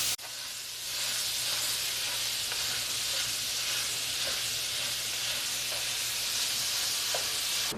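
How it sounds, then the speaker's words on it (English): 80/20 ground beef browns in a pan on the stove with a loud, constant sizzling hiss that holds steady throughout, close and alone. "So I'm going to brown this meat until it loses most of its pink color."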